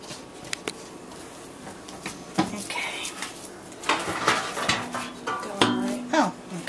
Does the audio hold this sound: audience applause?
no